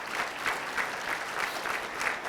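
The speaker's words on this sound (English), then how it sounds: "Let's give him a round of applause." Audience at a mayor's men's breakfast gives a steady round of applause, dense and even clapping filling the room throughout without a break.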